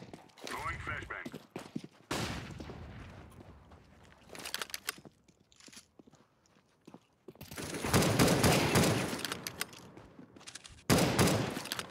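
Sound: flashbang grenade in video game CS:GO

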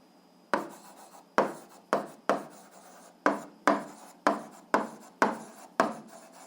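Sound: writing out a math solution

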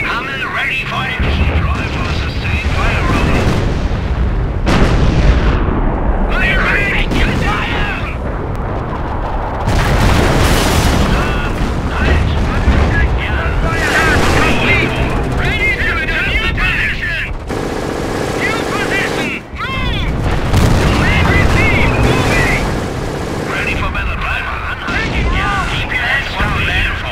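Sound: gunfire in battle from video game Company of Heroes

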